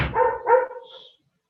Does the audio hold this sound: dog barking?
yes